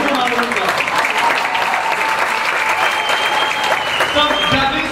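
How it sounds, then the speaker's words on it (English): A comedy show audience applauds loudly and steadily for the full stretch, dense clapping filling the room close up, with a voice speaking over it. "Please give them a round of applause."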